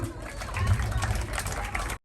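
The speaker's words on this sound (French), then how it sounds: "Applaudissez-les, je vous prie." An audience at a Christmas celebration in Les Cayes claps for performers, a dense, moderately loud patter of applause with faint voices beneath it that ends abruptly.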